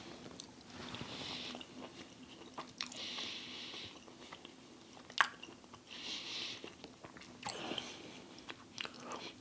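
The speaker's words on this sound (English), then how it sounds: "It does chew like meat," Tex Mex jackfruit is chewed close to the mic in soft, squishy bites with occasional crunchy snaps, a steady wet rhythm of mastication alone with no talking.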